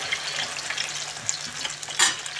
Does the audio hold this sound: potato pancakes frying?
yes